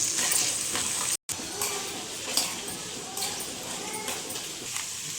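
Half a spoon of asafoetida dropped into hot oil while tempering: a steady sizzle with light stirring clinks, close and moderately loud, broken by a brief dropout, with someone speaking over it.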